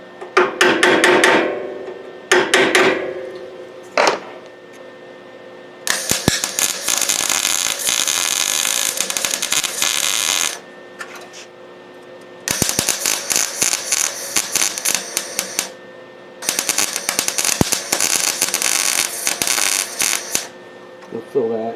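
Welding on radiator parts of a Honda Civic: after a few short metallic bursts and clicks, three long, harsh crackling welding runs buzz loudly up close, separated by brief quiet gaps.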